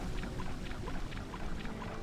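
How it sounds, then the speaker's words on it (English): Waterfall in the video game Morrowind Rebirth, a continuous rushing roar of falling water that stays dense and steady throughout, with no voices over it. "So Morrowind Rebirth seriously decided to just crank the waterfall noise up to like 100"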